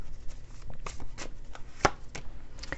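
A card is pulled from a Chinese tarot deck with soft papery rustles and shuffling taps, and one sharp snap stands out near the middle. The sounds are close and quiet.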